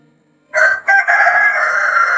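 A rooster crows once at close range at morning feeding time on a farm, loud and drawn out with a short break before the long final note.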